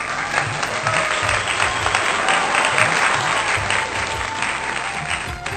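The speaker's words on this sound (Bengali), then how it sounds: "সবাই মিলে চিকুর জন্য হাততালি বাজাতে শুরু করলো।" A crowd of villagers in a Bengali cartoon applauds steadily, dense clapping filling the whole stretch at an even, fairly loud level, with no voices over it.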